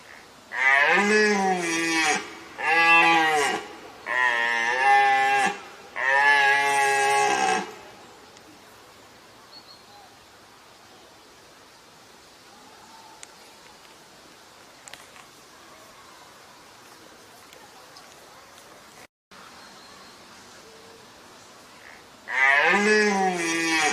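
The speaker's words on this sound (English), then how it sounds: "Red deer." Red deer call in four loud, drawn-out bellowing groans, one after another, then fall quiet before a fifth call begins at the end.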